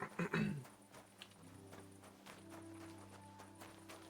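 Horse hooves clip-clop in a video game, a run of light, fairly even hoof knocks at low level after a brief louder burst at the start.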